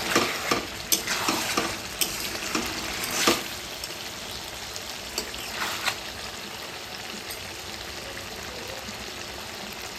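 Chicken cooked in a pan without oil is stirred repeatedly, sharp scraping strokes over a sizzle in the first few seconds, then a quieter steady frying hiss.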